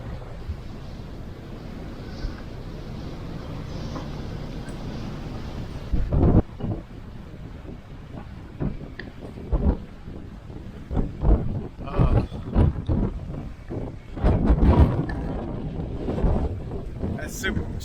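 Storm wind gusting around an anchored boat, a constant roaring rush with buffeting wind thumps on the microphone and louder bursts later on.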